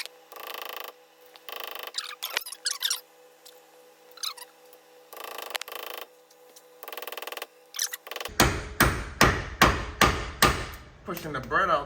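A socket hammered into a car's pilot bearing bore packed with bread, driving the bread in to push the bearing out: about seven loud, close metallic blows in a steady rhythm at the end, after quieter clattering and handling.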